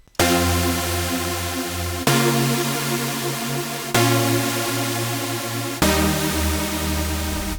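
Four sustained supersaw synth chords made in FL Studio, each a bright, wide, harmonically dense stack with a heavy low end, struck roughly every two seconds and held until the next, loud and alone with no voices.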